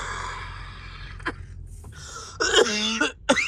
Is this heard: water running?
no